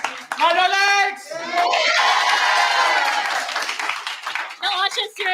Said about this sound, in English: The audience here in Manor Lakes are really lively, excited